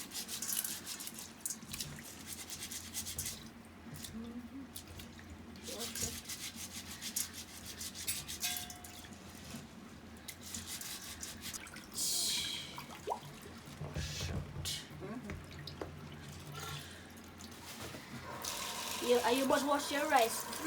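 Uncooked rice is swished and rubbed by hand in a pot of water, a quiet scraping, grainy churning with occasional trickles and splashes, repeated in uneven bursts.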